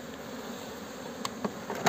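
Honeybees buzz steadily close by as a hive is split to form a nucleus colony, a continuous insect hum with a few brief louder passes near the end and no talk.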